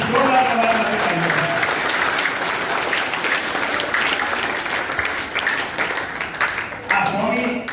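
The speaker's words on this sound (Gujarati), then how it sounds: "ફરીથી જોરદાર તમારા માટે તાળીઓ।" Audience applause fills a hall at a Kutch Kadva Patidar Sanatan Satpanth community children's gathering in Dehgam, a steady loud clapping that dips briefly and swells again near the end.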